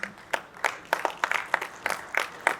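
A conference audience gives light, scattered applause, a thin patter of individual claps at moderate distance with no voices over it.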